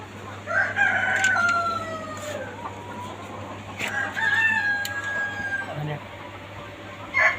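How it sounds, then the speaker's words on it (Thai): Chickens cluck and a rooster crows at a backyard coop with a fan running, several calls rising over a steady low hum. "นี่ไก่นุ่ม"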